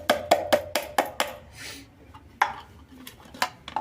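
Fenugreek seeds being added to oil in a pan while making hair oil, heard as a run of sharp metallic clinks and taps of a spoon against the pan, evenly spaced and close, then a soft shuffle and a few more knocks.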